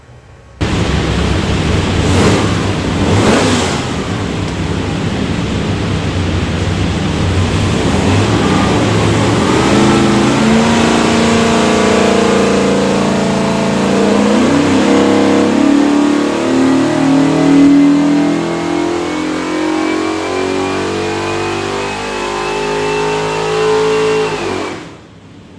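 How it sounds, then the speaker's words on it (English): A Holley EFI 427ci small block Ford with a World Products block, built for a '68 Mustang, roars on a dyno pull, loud and close. The engine climbs steadily in pitch over about twenty seconds, then cuts off abruptly. "We'll go in there and make a run, see what she does."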